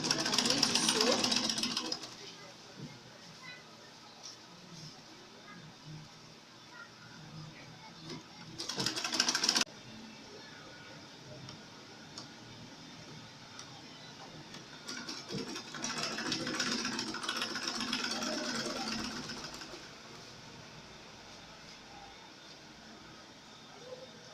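A sewing machine stitches a basic skirt in loud whirring bursts at the start and around nine seconds, then a longer stretch of steady running later, with quieter handling noise between runs.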